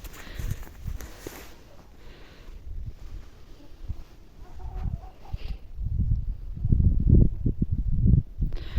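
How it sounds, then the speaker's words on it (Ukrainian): Chickens cluck and murmur close by outdoors, with soft scratching and footsteps mixed in, growing busier toward the end. "Пасем курей своїх."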